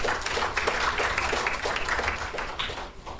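Church congregation clapping for the Lord during a Sunday worship communion service, a dense, steady patter of many hands filling the room, fairly loud and continuous with no talk over it.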